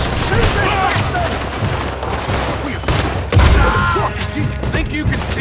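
Rapid gunfire from a Red Dead Redemption 2 shootout: loud, dense volleys of shots crack over rumbling booms, with shouting voices woven through the chaos.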